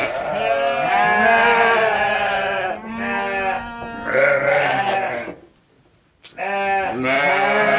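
Several registered Katahdin sheep bleat in a barn, loud overlapping calls in repeated bursts, with a short quiet gap before another bleat resumes near the end.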